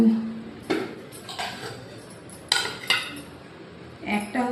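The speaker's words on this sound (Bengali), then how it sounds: "চোকা শুদ্ধ এইভাবে করে আলুগুলোকে কেটে নিচ্ছি।" A knife cuts through unpeeled potatoes, making several sharp, close chops and clicks spaced unevenly, with quiet gaps between each cut.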